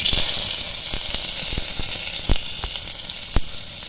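Chopped onion hits hot oil in a kadai while a taro-flower dish is cooked, giving a loud, continuous sizzle broken by a few sharp clicks of stirring.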